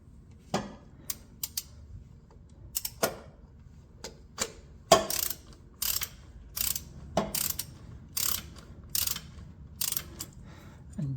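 Ratchet wrench clicking as it tightens a fastener on a 1996 Honda Accord engine during timing belt work, a series of short, sharp, close metallic ratcheting bursts spaced irregularly over quiet.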